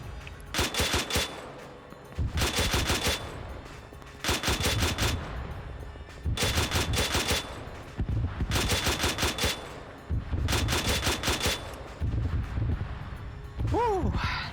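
Automatic gunfire rattles in a military video game fought against AI enemies, coming in repeated long bursts with short pauses between them, loud and steady throughout, with a voice speaking underneath.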